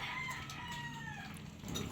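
A mother hen at a family yard gives soft, short clucks, a few faint calls over a quiet outdoor background.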